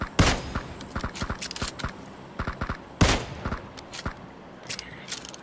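Gunfire in the mobile battle royale game PUBG Mobile: sharp, close shots in quick bursts with brief gaps, loud and alone, without talk.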